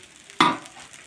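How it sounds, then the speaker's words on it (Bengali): A spoon makes one short scraping stir through turmeric and spices in a cooking pot for chicken and khichuri. It is a single close swish that fades quickly, with no talking. "তো এই পর্যায়ে আমরা এটাকে সুন্দর করে আবার নেড়ে আমরা কালার করে নিচ্ছি।"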